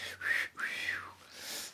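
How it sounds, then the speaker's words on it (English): A person whistles a few short tones, sliding and wavering between pitches, with breathy gaps between them, heard up close and alone. "I can't whistle too well."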